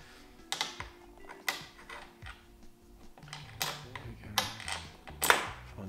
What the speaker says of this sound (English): we just gently wind our screw in